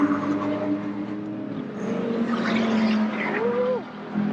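A BMW E46 M3 with a swapped N54 engine and DCT gearbox drives on a track, its engine droning and shifting pitch with tyre squeal, heard at moderate distance with a voice talking over it.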